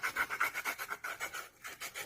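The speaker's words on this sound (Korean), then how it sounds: "여기 원은 이렇게 사포를 돌돌 말아주세요." Rolled sandpaper rubbing a circular cutout on a handmade wooden speaker, a close rhythmic rasping scrape repeating in quick back-and-forth strokes with a brief pause partway through.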